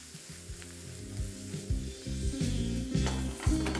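Onions with salt, turmeric and Kashmiri chilli powder fry in a pan for a potol and potato dish, giving a continuous close sizzle that swells with each toss and stir.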